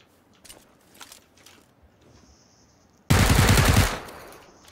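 Video game gunfire: after faint clicks and shuffling, a sudden loud burst of rapid automatic fire lasts about a second before fading.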